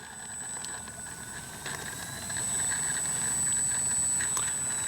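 Faint, steady whine of an FMS Ranger RC plane's electric motor while the model taxis on its wheels outdoors, rising slightly in level partway through, with a thin high tone and no talk.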